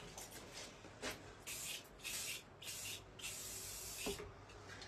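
A spray gun lays the first coat of finish on a firearm in short hissing bursts, roughly six close passes with brief gaps between them, alone without talk.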